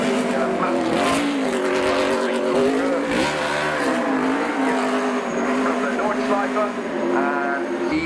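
A turbocharged five-cylinder Lancia Delta Integrale rally car drifts loudly, its engine droning and revving continuously with tire squeal, while voices carry faintly underneath.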